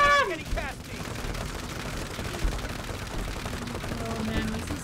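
Rapid gunfire bursts in a game, dense and continuous under music and effects, with a voice speaking briefly at the start.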